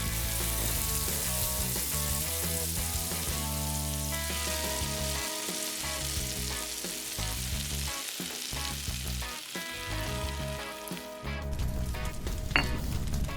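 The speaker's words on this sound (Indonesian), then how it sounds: "Goreng kepiting" Crab fries in hot oil in a tiny miniature kitchen, a loud continuous sizzle and crackle that lasts throughout, with occasional stirring knocks beneath light music.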